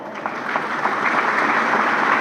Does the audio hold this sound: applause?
yes